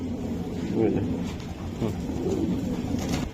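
Cooing from racing high-flyer pigeons at a busy pigeon sale, low throaty calls repeating through the scene while people talk nearby over market noise.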